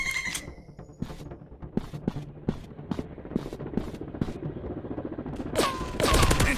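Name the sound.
gunfire in a video game shooter, PUBG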